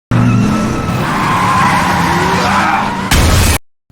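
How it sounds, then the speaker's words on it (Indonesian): A car's tires squeal and skid loudly and continuously in a movie chase scene, a sustained screech that ends in an abrupt burst of harsh crash-like noise before cutting to silence. "laju mobil Kimura dihentikan dengan sebuah tabrakan"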